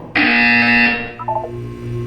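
A loud electronic buzzer in Portal 2 blares for about a second, then cuts off, leaving faint tones and a low hum.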